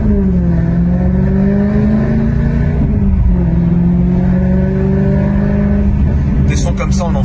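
A Maserati engine revs hard and close, its throaty note rising and falling in sustained pulls that fill the whole stretch, with a brief dip near the middle and a few sharp crackles at the end.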